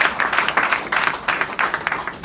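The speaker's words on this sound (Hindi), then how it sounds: "एक जोरदार तालियां बजाएं।" Audience applause at a Hindi fortnight comedy-poetry event at NABARD bank: a brief, dense burst of many hands clapping together, steady and fairly loud, with no voices over it.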